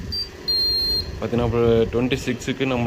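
A Sharp inverter air conditioner gives two short high electronic beeps from its buzzer while its error codes are checked with the remote, followed by someone talking close up.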